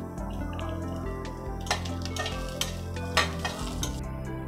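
Green chillies and ginger sizzle in hot oil for Bombay chutney, a steady close frying hiss under a few sharp stirring scrapes of a spoon against the pan.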